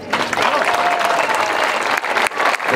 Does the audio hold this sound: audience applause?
yes